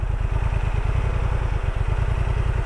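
An off-road motorcycle engine running loud and close during slow balance practice, a steady pulsing throb with a fast even rhythm and no speech.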